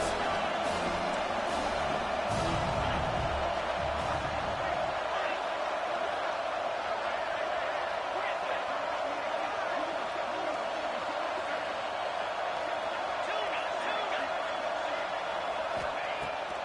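A football stadium crowd roars steadily in the background through a big third down, a constant wash of noise beneath a commentator's play-by-play voice.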